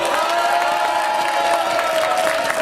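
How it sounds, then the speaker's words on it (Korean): At a campaign rally, a crowd applauds and cheers for candidate Kim So-yeon, a dense, continuous wash of clapping with scattered whoops that holds steady throughout. "맞다고 생각하면 박수 한번 김소연 후보에게 보내주십시오"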